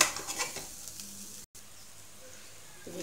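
Soybean dal roasts in ghee for halwa with a soft sizzle and a few stirring scrapes at first, then a faint steady hiss with a brief silent gap.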